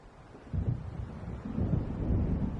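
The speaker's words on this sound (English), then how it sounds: "It seems there's a storm coming." Rumbling thunder of an approaching storm by a lakeside town in the video game Alan Wake, a low rolling growl that swells and builds over a few seconds, mixed with a windy roar and no talk.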